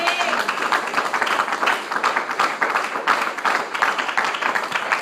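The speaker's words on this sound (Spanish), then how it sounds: "Claro que ese aplauso puede ser más fuerte para él." Church congregation applauding during a sermon, a dense continuous wash of clapping from many hands that holds steady and fairly loud for about five seconds.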